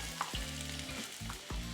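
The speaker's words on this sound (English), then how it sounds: "Hear that sizzle, baby?" Steady, loud sizzling of onions and bell peppers frying on a Ninja Foodi Grill griddle, with a few clanks and scrapes of a utensil stirring them.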